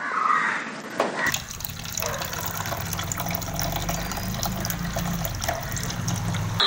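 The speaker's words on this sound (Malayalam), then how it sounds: "ഇത് തെളിച്ച് ഇവിടെ ഒരു തുണി ഉണ്ടെങ്കിൽ തുണി ഇട്ടതിന് ശേഷം അല്ലെങ്കിൽ ഒരു നെറ്റ് ഇട്ടതിന് ശേഷം തെളിച്ച് ഒഴിക്കാം" Fish amino acid liquid poured through a cloth strainer makes a steady, close, continuous splashing trickle that starts after about a second and runs without a break to the end.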